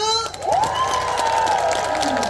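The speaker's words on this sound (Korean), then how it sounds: "그럼 우리 후배 후배님들이 이 명맥을 이어나갈 수 있게 박수 한번 들어볼까요?" Crowd applause and cheering at the 27th Jecheon Bakdal song festival, a Korean outdoor song contest, with a loud wash of clapping and shouts mixed with a rising tonal sound.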